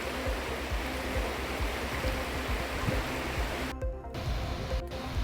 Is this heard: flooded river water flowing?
yes